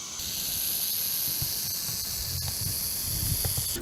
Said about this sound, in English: snakes can hiss but not snort